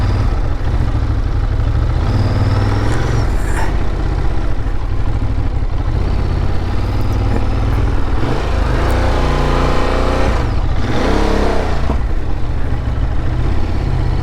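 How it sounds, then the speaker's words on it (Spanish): A heavy motorcycle of about 300 kilos revs and labours through a patch of sand on a road trip in Ivory Coast, a loud continuous engine drone with rising and falling throttle. "Ahí había un poquito de arena y no veas para mover la moto."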